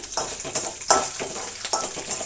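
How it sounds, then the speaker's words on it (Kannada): Three chopped green chillies fry in hot oil in a pan for a brinjal gravy, a close crackling sizzle broken by several quick scrapes of stirring, no voices. "ಈಗ ಅದರ ಜೊತೆಗೇ ನೋಡಿ ಮೂರು ಹಸಿಮೆಣಸಿನ್ಕಾಯಿ ತುಂಡು ಮಾಡಿರೋದನ್ನು ಹಾಕ್ತಾಯಿದ್ದೀನಿ"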